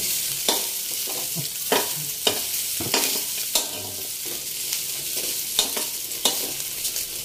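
Onion and garlic sauté in hot oil, giving a steady loud sizzle broken by frequent scraping, clacking stirs of a utensil against the pan, heard up close without talk.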